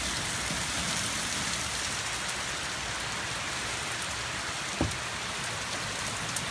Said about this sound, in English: We're getting storms